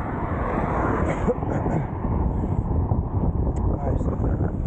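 Strong wind buffets a microphone on a bicycle rolling downhill at speed, a loud continuous low rumbling roar with gusty fluctuations throughout.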